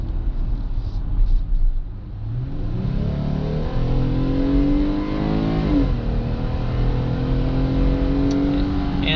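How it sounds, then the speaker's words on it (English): A 2020 Jeep Gladiator accelerates onto a highway, engine rumbling and rising in pitch through several gear changes, heard steadily from inside the cabin, loud and continuous with no talk. "we'll get you a brief acceleration test just to see how it merges onto the"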